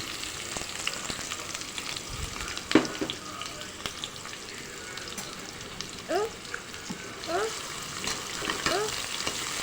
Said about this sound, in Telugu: ఇవి వేగాక ఆనియన్స్ వేసాను. మిర్చి అండ్ ఆనియన్స్.